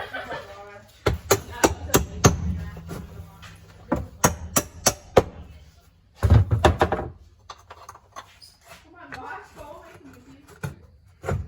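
Repeated sharp thunks from a hammer striking during a sound bar install on a Can-Am Defender, irregular bursts of several hits, close by, with people talking between and over the blows.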